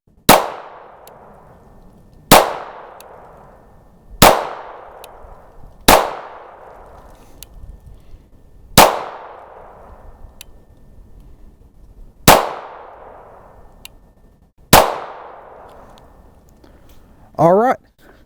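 A Kel-Tec P17 .22 LR pistol fires seven sharp, loud shots at uneven intervals of about two to three seconds, each with a short ringing decay, followed by a brief metallic rattle at the end.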